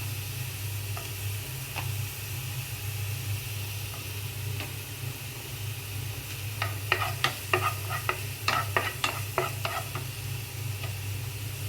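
Tomato frying in a pan while being stirred, with a steady low sizzle under a burst of scraping, clicking stir strokes in the second half; no one talks.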